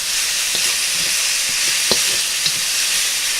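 Pork sizzles steadily in a stir-fry pan, a loud, close, even hiss broken by occasional clinks of stirring.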